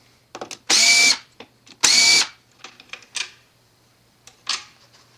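Screws removed from a water softener control valve with a power driver: two loud, close whirring bursts, each about half a second long, followed by scattered small clicks and taps of handling.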